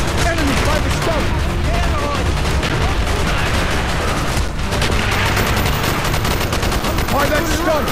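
Heavy, continuous gunfire from a firefight in Call of Duty: Black Ops, dense overlapping bursts and booms filling the whole stretch, with shouted soldier voices mixed underneath.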